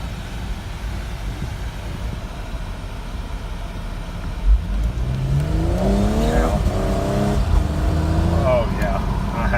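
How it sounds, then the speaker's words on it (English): A 2016 Audi SQ5 with a 3-liter supercharged engine accelerates hard, its rising engine note climbing through gears from inside the cabin, with people talking over it. "I'm guessing this is the 3-liter supercharged engine."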